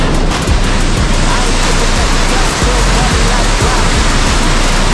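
A powerful waterfall roars in a dense, unbroken wash of white noise, loud and close as if standing right beside the plunging water, with no gaps throughout.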